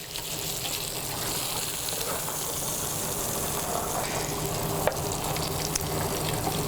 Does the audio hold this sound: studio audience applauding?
no